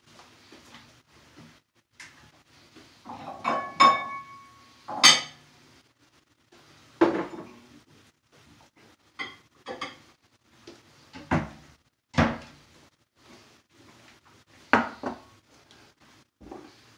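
Dishes and a bowl being grabbed in a home kitchen, scattered sharp clinks and knocks of crockery and utensils, close and intermittent with quiet gaps between.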